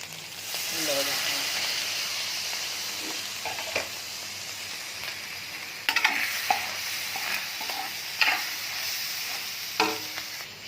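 Minced beef keema sizzles continuously on a tawa as yogurt goes in, a broad close hiss punctuated by occasional scraping and stirring clicks, with a voice heard faintly at times.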